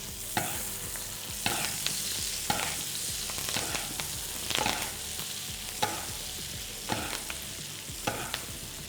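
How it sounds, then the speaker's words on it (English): A rib eye steak sears in a hot pan while utensils scrape and tap at a steady rhythm, about a stroke per second, over a constant sizzle, near and without voices. "So for medium rare, I'm cooking it for 3 minutes on either side."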